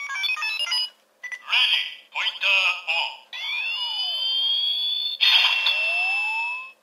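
A DX Faiz Phone X toy gun fires its single-mode trigger effect: choppy bursts of bright electronic beeps and chirps, then long synthetic sweeping tones and a siren-like warble, loud and close.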